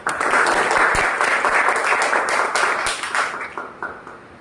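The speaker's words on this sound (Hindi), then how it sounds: "ताली बजाओ ना यार" An audience claps in a loud, dense burst of applause at a typing test competition, fading toward the end with no talk over it.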